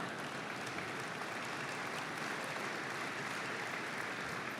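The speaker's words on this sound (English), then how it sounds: "Do I hear my children applauding?" Steady applause from a large audience at the 2014 Berkshire Hathaway annual shareholder meeting, a continuous even wash of clapping that keeps a uniform level throughout with no talk over it.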